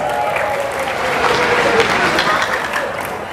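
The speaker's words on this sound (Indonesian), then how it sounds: "Tepuk tangan buat Telas." Clapping from an audience in a crowded room at an entrepreneurship talk, fairly loud and continuous over the whole short stretch with a rough, busy texture.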